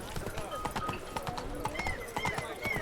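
Hooves of the horse Roach clip-clop along in a Witcher 3 game scene. A steady walking clatter sits under game ambience, and a voice speaks over it.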